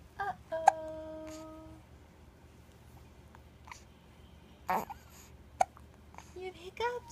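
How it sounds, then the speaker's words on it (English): A newborn baby about three and a half weeks old hiccups a few times, soft sharp little catches spaced seconds apart over quiet room noise, with a faint tonal whine early on. "You have hiccups?"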